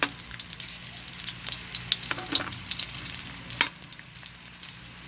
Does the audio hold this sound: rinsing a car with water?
no